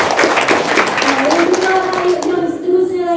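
An audience claps together at a talk, a brief burst of dense, close applause that fades out as a voice begins speaking.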